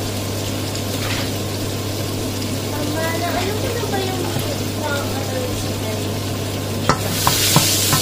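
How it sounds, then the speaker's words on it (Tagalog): Onion and garlic sautéing in a pan, a continuous loud sizzle and stir under a steady background hum, with a few sharp clatters of the utensil toward the end. "Igisa na natin yung sibuyas, bawang."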